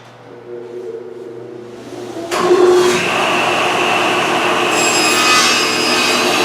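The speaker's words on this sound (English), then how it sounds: "Then I'm just going to start grooving these parts until we fit the bottoms." A table saw starts and then runs steadily, cutting grooves into wooden drawer parts in a workshop. Loud, sustained broadband whine with the blade working the wood, no talking.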